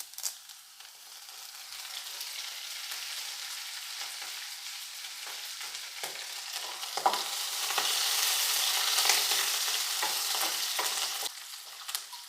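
Garlic and curry leaves sauté in hot oil in a pan for Goan potato bhaji, a constant bright sizzle that swells louder midway, with occasional stirring scrapes and no voices.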